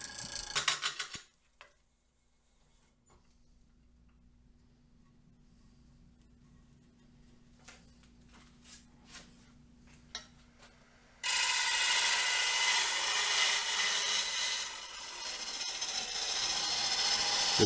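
Wood lathe turning an off-balance maple burl at low speed: quiet mechanical clicks and scraping, then a loud, steady rushing roar of the spinning blank and cutting for the final seconds.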